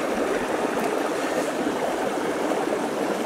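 Continuous rushing water of a stream near a waterfall, a steady broadband wash with no breaks, fairly loud and close.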